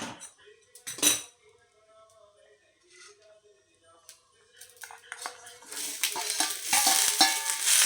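Cauliflower being fried and stirred in a pan: sharp metal utensil clinks and scrapes at first, then a building, louder sizzle with busy stirring toward the end.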